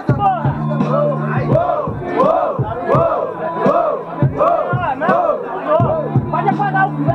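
A packed student rap battle crowd in Guarulhos, São Paulo chanting and shouting in unison, loud rhythmic rising calls repeated in waves with cheers, close and continuous for about seven seconds.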